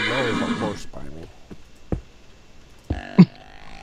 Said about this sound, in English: Dude, now there's a horse by me.